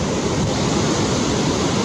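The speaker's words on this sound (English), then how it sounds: "Seeing the waves go by this" Ocean surf breaking on a beach at a popular surfing spot, a steady loud broadband wash of waves with wind noise on the microphone, continuous and close, with no voices.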